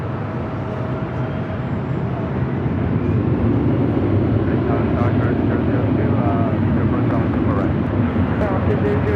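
A fixed-wing airliner at Los Angeles International Airport throttles up for takeoff on runway 24 left, a loud, steady engine roar that fills the whole stretch with a slight swelling rumble.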